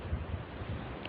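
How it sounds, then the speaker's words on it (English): Strong gusting wind during a stormy day with light rain, roaring as a steady broadband rush with low buffeting thumps against the microphone, continuous and close, with no voices. "It's very windy."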